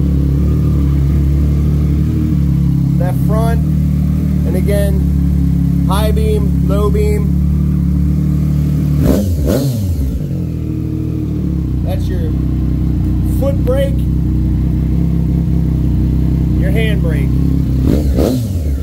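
A 2018 Triumph Street Triple RS motorcycle engine idles loudly and steadily nearby and rises into a few revs, while someone talks excitedly over it.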